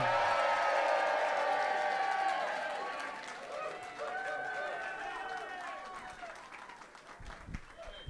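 Rally crowd cheering and applauding for the Maryland governor and gubernatorial candidate Kelly Schulz, a dense loud roar with whoops and shouts that gradually eases, mixed with voices.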